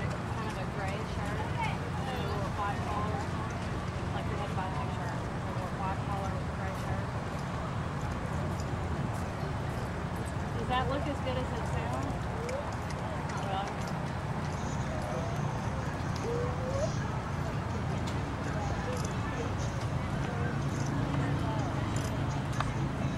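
Horses move around a Hunter Under Saddle show arena with soft, muffled hoofbeats that are hard to pick out under continuous loud talk and background noise.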